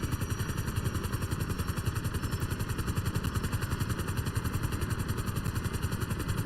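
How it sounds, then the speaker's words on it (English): A helicopter in GTA Online, a steady rapid rotor chop with a droning engine hum underneath, close and continuous at an even rhythm throughout. "we're flying the worst helicopter in GTA Online history right now"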